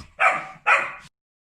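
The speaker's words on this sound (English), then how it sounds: "we've got this little guy over here barking to try and get the toy" Small dog barking to get a toy, two sharp close barks in quick succession, loud and clear with nothing else underneath.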